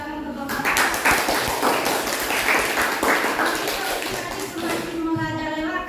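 An audience at a university event claps in a warm burst of applause, with voices talking over and between the clapping.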